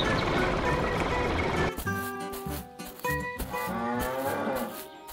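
A cartoon farm cow moos loudly in a long, drawn-out call over a background of rustling farm sounds, with a second low moo following close behind.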